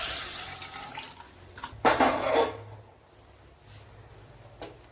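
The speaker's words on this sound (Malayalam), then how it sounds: "അപ്പോഴത് വെന്ത വെള്ളം തന്നെയാണ് ഞാൻ ഒഴിച്ചു കൊടുത്തത്." Cooking water pours into a pumpkin and cucumber curry in a short splashing burst, with a trickle before it and light drips after, close and moderately loud.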